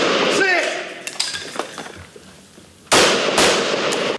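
Gunfire at a security forces shooting drill, with a sharp close report followed by a second loud burst of shots later on. Talk and other activity fill the gap between the shots.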